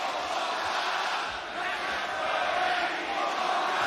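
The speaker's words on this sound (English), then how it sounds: "And this great crowd here in Toronto." Arena crowd at a live wrestling event in Toronto, a steady roar of cheering and shouting throughout, broad and continuous.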